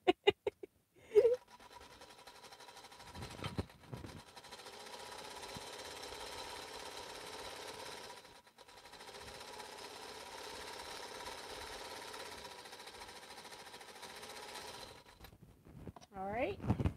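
A home sewing machine runs steadily for long stretches while quilting bowl cozies, with a brief pause in the middle and a few clicks and handling sounds at the start and end.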